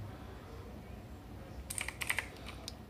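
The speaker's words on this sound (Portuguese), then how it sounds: "ouvir aí o sonzinho dele é a, a ser digitado" A short flurry of keystrokes on an OEX Spectrum TC602 mechanical keyboard, crisp clicks clustered together over a quiet, faintly hissing background.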